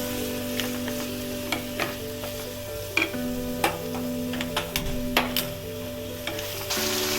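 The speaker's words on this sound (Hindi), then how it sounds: "अच्छे से हम इसको फ्राई करेंगे।" Steady sizzling of mutton frying in a pan for rogan josh, with occasional stirring clicks and scrapes cutting through the continuous hiss.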